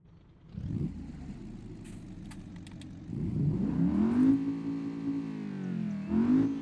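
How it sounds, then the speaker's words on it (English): A Procyon Avior car engine in BeamNG idles low, then revs up in a rising, steady whine that holds and dips before climbing again, smooth and continuous. "here, listen to the sound of this engine"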